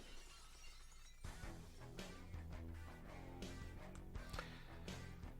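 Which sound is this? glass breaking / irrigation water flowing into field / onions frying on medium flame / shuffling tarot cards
glass breaking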